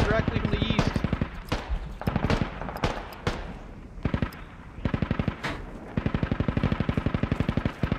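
Rapid machine gun bursts crackle through a Squad firefight, with long rhythmic strings of shots broken by short pauses and louder single reports, while voices talk over the shooting.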